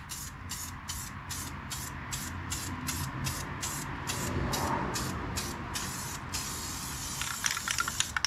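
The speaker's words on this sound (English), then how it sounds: "It's really just like spraying everywhere." A spray nozzle hisses in quick, regular bursts, about fourteen short pulses, while hardware for a Scotts 15/42 lawn tractor is painted black, close and steady over a low background rumble.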